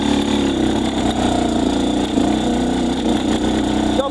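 A motorcycle fitted with a Keihin PWK Airstriker 36S carburetor and jetting kit runs steadily during a riding test on a slope, its close, loud engine droning at constant revs throughout.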